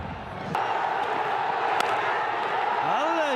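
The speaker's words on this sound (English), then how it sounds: "Crowd are elated." A cricket crowd roars steadily after a boundary, a broad sustained cheer with a few sharp claps and thumps mixed in, and a voice rising over it near the end.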